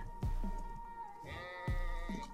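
An Ovis sheep in the game Ark: Survival Evolved gives two short, clear bleats about a second and a half apart, close and fairly loud over a quiet background.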